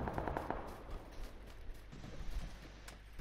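Rapid gunfire in a video game from a vehicle passing by, a quick run of sharp repeating shots that rise and fall in loudness over a few seconds, heard fairly faint with no talk.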